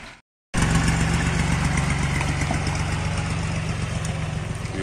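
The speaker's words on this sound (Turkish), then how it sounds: "Aa, traktörümüz de geldi." A village tractor engine arriving at a woodcutting site and settling into an idle, its steady loud diesel rumble close by and continuous, with no one speaking.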